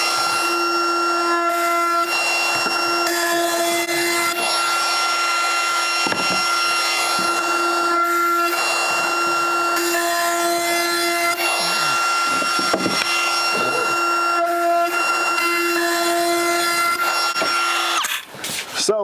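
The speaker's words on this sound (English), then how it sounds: "I'm going to real quickly round over all 4 corners with this router." A handheld wood router rounds over all four corners of a cut ladder piece, giving a loud, continuous high motor whine with cutting roughness through the whole stretch. The pitch dips briefly between passes, and the sound cuts off near the end.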